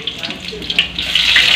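Garlic cloves, two green chillies and finely chopped onion fry in hot oil for a pasta dish, giving a steady hiss that builds and brightens toward the end, with no voices over it.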